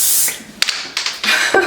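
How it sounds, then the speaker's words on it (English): Vegetable cooking spray hisses into a bowl in short bursts: one long spray, then a few quick sharp puffs, close up and fairly loud. "I'm going to spray the bowl with a little bit of"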